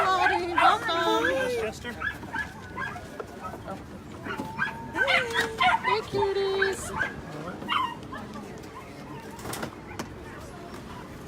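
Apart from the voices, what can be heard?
puppies and small dogs barking and whimpering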